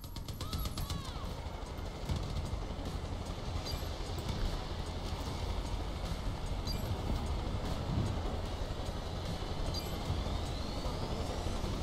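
A helicopter sets down in Far Cry: New Dawn, its steady droning engine and rotor noise filling the whole stretch at an even loudness, with a voice speaking briefly over it.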